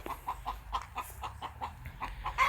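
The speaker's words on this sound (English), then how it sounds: "they're still making cheep sounds" Backyard chicken chicks cheep in quick, regular high peeps close by, with faint rustling underneath.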